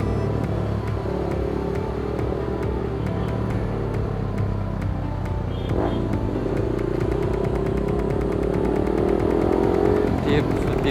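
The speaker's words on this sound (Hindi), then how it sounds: "जानबूझ के रेव कर रहा है इधर।" A motorcycle with a loud exhaust revs near a roadside police stop, its engine droning and rising in throaty bursts under steady traffic noise, while people talk over it.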